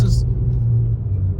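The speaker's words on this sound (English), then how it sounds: "You deal with a lot of traffic on your way to work." Low, steady rumble of road traffic with trucks, heavy engine and tire drone passing close by, continuous under a constant hum, with a brief hiss near the start.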